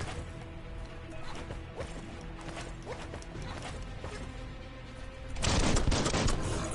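Dense gunfire in the game Biomutant, a continuous clatter of overlapping shots and impacts that swells into a louder, heavier burst near the end.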